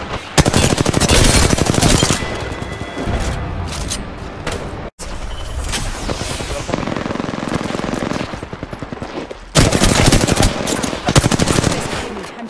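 Rapid, sustained gunfire in the video game Apex Legends, with loud automatic bursts and overlapping shots that barely pause. There is a sharp break midway, then the firing resumes and grows louder near the end.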